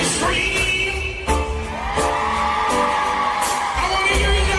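Live dancehall concert crowd whooping and yelling loudly over a pounding backing track at a birthday celebration, steady dense noise with sharp bursts of cheering throughout.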